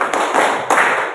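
A classroom group claps once in unison on a teacher's cue, giving a couple of sharp, loud, near claps.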